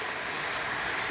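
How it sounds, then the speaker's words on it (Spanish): Steady rain pouring down on a December morning, a dense, even hiss of falling drops that fills the whole moment, close and continuous with no voices. "Este llover y llover."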